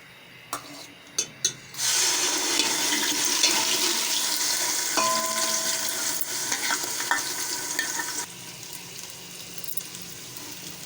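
Onion paste drops into hot oil and erupts into a loud, continuous sizzle and crackle after a few sharp clicks, gradually settling before easing off near the end.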